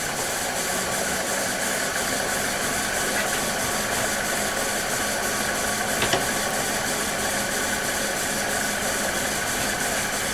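A wood lathe turns a white ash platter, making a steady mechanical hum and whir with a faint tonal whine. A brief tap sounds partway through, and no one speaks.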